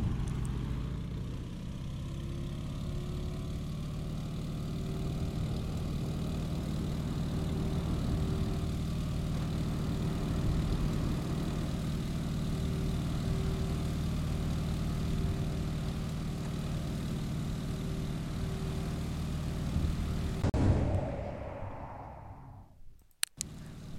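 A propeller aircraft engine runs at full throttle in the Microsoft Flight video game, a steady droning roar with a constant tonal hum that holds for about twenty seconds, then swells briefly and cuts off abruptly.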